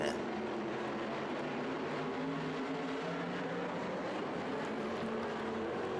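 Sprint cars roar steadily at speed in a pack just after a green-flag restart, a continuous loud engine drone with no break across the whole stretch.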